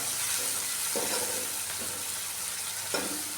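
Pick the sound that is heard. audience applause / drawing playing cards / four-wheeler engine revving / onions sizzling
onions sizzling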